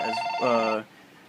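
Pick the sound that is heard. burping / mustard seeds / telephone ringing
telephone ringing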